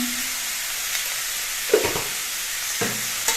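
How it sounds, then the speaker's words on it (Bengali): Papaya pieces frying in oil with salt, giving a steady, fairly loud sizzle close by, broken by a few soft stirring scrapes and clacks of the spoon. "পেঁপেগুলো কিছুক্ষণ ভেজে নিতে হবে"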